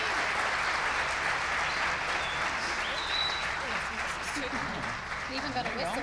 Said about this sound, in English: could you please give a round of applause for our lovely panel this afternoon?